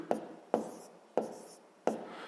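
A pen writes numbers into a notebook in four short scratchy strokes, each opening with a small tap, close and fairly quiet.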